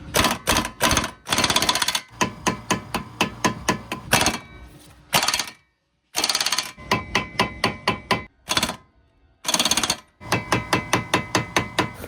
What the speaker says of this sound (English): I don't think you're supposed to use this style of socket with an air impact, but that's what I've got, so that's what I'm doing.